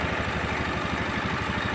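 A Honda Scoopy FI scooter engine idles steadily, a close, even mechanical putter with rapid regular pulses, running alone without any talk.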